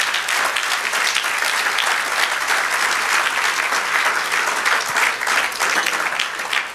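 A church congregation bursts into loud, sustained applause, dense clapping from many hands that holds steady for several seconds.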